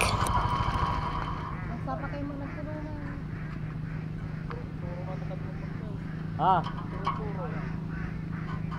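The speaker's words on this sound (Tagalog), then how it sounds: "Yan na po yung kanilang mga alagang itik." Farm-raised ducks quack briefly in the distance on a duck farm, a few faint calls under someone talking loudly over a steady low outdoor hum.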